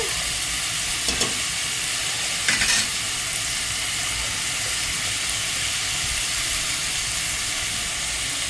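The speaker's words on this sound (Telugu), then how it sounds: "ఆయిల్ వేడెక్కిన తర్వాత ఆనియన్స్ వేసాను" Onions sizzle and fry steadily in hot oil, a constant broadband hiss with a couple of brief stirring scrapes, no voices.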